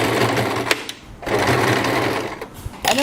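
Sewing machine running fast while stitching hair wefts onto a wig cap, a dense steady mechanical whir with a couple of brief pauses, close and loud.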